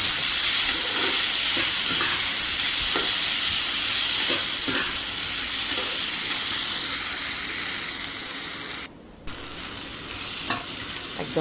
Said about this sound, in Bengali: ওই আদা, কাঁচা লঙ্কা সাথে খুব ভালো করে আলুটাকে ভাজি